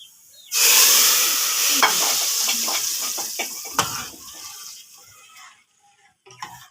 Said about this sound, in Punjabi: ਲਸਣ ਸਾਡਾ ਬਰਾਊਨ ਹੋ ਗਿਆ ਵਾ ਤੇ ਹੁਣ ਪਾਈਏ ਹਾਂਡੀ ਦੇ ਵਿੱਚ